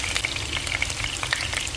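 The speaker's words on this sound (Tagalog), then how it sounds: "nagpainit ako ng pan na may mantika, tapos pinrito ko yung carrots and patatas" Carrots and potatoes frying in hot oil in a pan, a dense continuous sizzle with small crackling pops, close and fairly loud.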